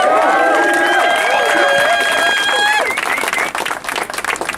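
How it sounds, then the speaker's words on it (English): A crowd at an anti-aviation gathering at Grow Heathrow breaks into cheering and applause, a broad wash of clapping and shouts that rises after a few seconds of mixed voices and whistle-like tones. "And so maybe a big cheer for that as well."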